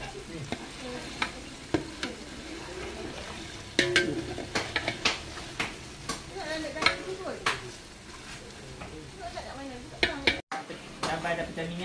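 Chili paste sizzles and fries in a hot pan while a utensil stirs and scrapes repeatedly; a voice talks intermittently over the cooking.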